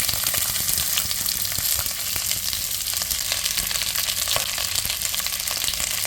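Ivy gourd pieces dropped into hot oil already crackling with mustard seeds and curry leaves, giving a steady, close sizzle with scattered pops and light stirring scrapes, no voices.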